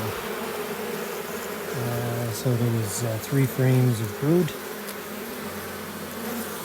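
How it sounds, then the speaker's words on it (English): Honey bees fill a nuc hive with a steady, close buzzing drone that runs under a voice as he talks through the frames. "There's a lot of bees in there"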